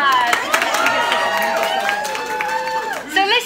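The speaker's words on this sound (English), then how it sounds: "Round of applause" Audience applause with clapping and cheering fills a crowd gathered for a Purim-season Torah class, loud and continuous with voices calling out over the clapping.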